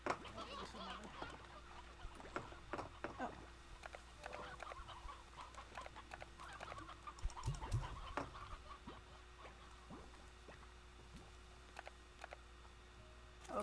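Elder Roostro chickens in the video game Slime Rancher 2, soft scattered clucks and short calls over a quiet background hum, with faint talking here and there.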